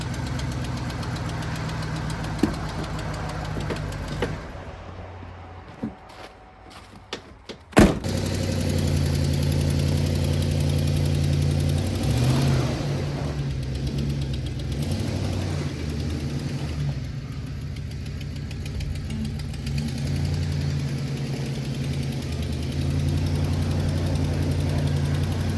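A donor car's engine idles steadily out in the snow, a low, continuous mid-pitched rumble with a slightly knocking texture, preceded by a few knocks and clunks before the engine settles into its run.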